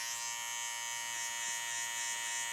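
Electric hair clippers trimming hair during a fade haircut, a continuous close buzzing hum held steady throughout with no speech.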